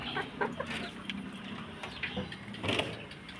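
Three-month-old backyard cockerels give short, scattered clucks close by, with a faint steady outdoor background and no voices.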